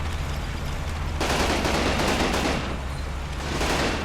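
Heavy machine gun fire in the Combat Mission Rome to Victory war game rattles as dense, continuous bursts that swell and ease across the whole stretch, loud and unbroken with no voices over it.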